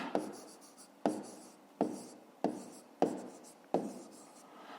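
A pen writes the answer to a fifth-grade math exercise, six distinct scratchy strokes at an even pace, close and quiet with no talking.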